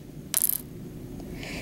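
A slate rock sample struck sharply once, giving a bright, brief clink like a dropped coin, followed by a faint lighter tick in a quiet room.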